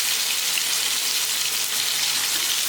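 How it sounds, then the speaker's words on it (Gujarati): Onion sautéing in oil in a pan over a very low flame while making turiya (ridge gourd) shaak, a steady, close, even sizzle with no pauses and no voices. "ઓનિયન એડ કર્યા પછી ઓનિયનને પણ આપણે સાંતળી લઈએ"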